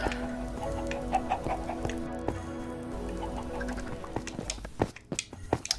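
Video game chickens cluck and murmur steadily, several birds at once, with a low constant background hum and occasional clicks.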